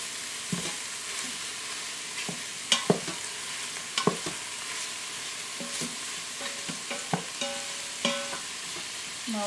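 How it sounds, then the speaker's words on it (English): Sausage browning in an Instant Pot, with a soft steady sizzle and intermittent scraping stir strokes and utensil clicks against the pot, fairly close and moderately quiet, no talking. "we're going to cook this sausage for 1 to 2 minutes"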